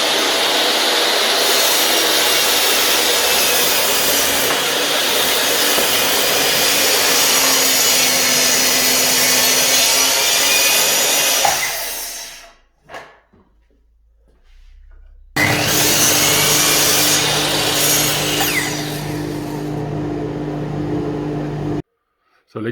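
A power saw cuts wood pieces to 320 mm length with a loud, sustained whine that stops briefly, then starts again for a second cut before cutting off.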